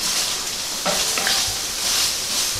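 Steady, close sizzling of okra and spicy peppers stir-frying in a hot pan, with a few scraping stirs of a utensil against the pan.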